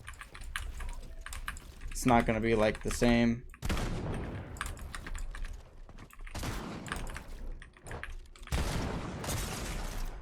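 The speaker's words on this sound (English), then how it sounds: "I'm barely touching the keyboard and it's actuating, surprisingly." Rapid clicking keystrokes on a new computer keyboard, coming in dense bursts of typing close to the microphone, with a person speaking briefly between them.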